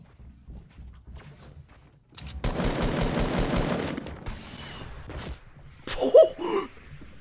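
Video game gunfire crackles in a dense burst of rapid shots lasting a couple of seconds, followed by scattered quieter shots and a short sharp burst near the end, with no talk over it.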